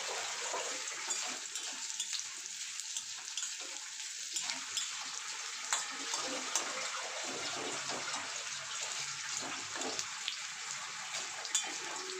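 Crushed ginger fries in a pan for sago khichuri, giving off a steady, close hiss and sizzle with no talk.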